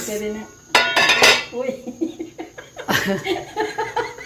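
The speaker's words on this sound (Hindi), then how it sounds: "गरम ढक्कन अम्मी ने पकड़ लिया" A hot metal pot lid is grabbed and clanks against the pot while beef yakhni pulao cooks, with sharp clinks of metal and dishes under laughter and voices.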